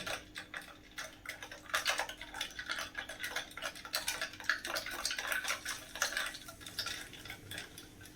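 A spoon stirs raw mango drink (panha) in a vessel, making quick, irregular metallic clinks and light liquid swishes that continue throughout, close and clear with no talking.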